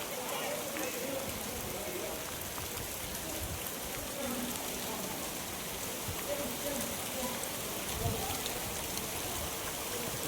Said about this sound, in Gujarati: અત્યારે વરસાદ પડે છે